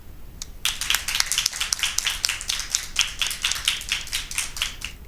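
A small audience claps for quiz teams at a school Christmas Bible quiz, sharp close hand claps in a loose, uneven rhythm that starts abruptly and keeps going steadily.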